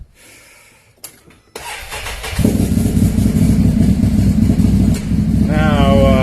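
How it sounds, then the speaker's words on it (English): A 2020 Can-Am Maverick X3 Turbo RR starts up after quiet moments, then its engine settles into a loud, steady idle with a rough, throaty exhaust, close by and filling the space. "Now, note the exhaust is pretty loud on this."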